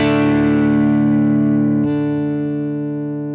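An electric guitar chord rings out through a Vibro V30 amp model with basement room ambience, one sustained distorted chord that holds loud and then slowly fades, with a slight shift in tone partway through.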